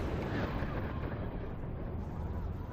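A loud, continuous roaring blast of explosive arrows in the video game Crysis 3 rumbles for a few seconds, dense and heavy like a big explosion, with no talking.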